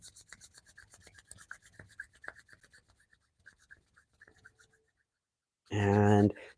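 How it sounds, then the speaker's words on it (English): During a qigong and tai chi session, a pair of palms rub briskly together in a soft, dry rasping run that fades out, followed by a short, loud burst near the end. "And rub the hands together."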